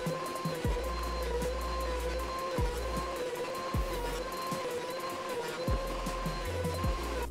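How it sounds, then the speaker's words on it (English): A thickness planer working a white oak board gives a sustained, loud mechanical whine. Its pitch dips and drops repeatedly as the cutters bite, with a steady motor hum underneath throughout. "When I run this through the planer, I'm going to run one side through, flip it, run the other side through"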